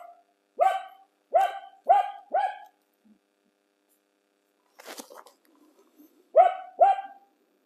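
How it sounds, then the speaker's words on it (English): A dog barks outdoors in the woods: a quick run of four sharp, resonant barks, a pause with a faint rustle, then two more barks close by in otherwise quiet surroundings. "So I apologize for Kobe barking, but he is my ally, my protector"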